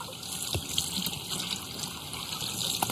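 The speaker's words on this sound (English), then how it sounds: "Just run some cold water on the grains and put it in a strainer." Cold tap water gushes steadily over quinoa grains in a strainer, a continuous close splashing with small spatters and no talking.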